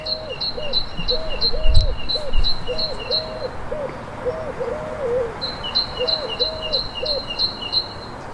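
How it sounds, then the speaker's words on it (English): A bird sings a repeated, looping warble over steady outdoor ambience, joined by rapid high chirps that come in bursts at the start and the end. "there is this bird, absolutely beautiful, and he won't let me speak"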